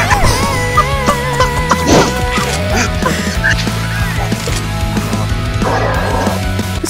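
Chickens in the CS:GO video game cluck and squawk in short, irregular bursts over busy gameplay noise, with thuds and clatter mixed in.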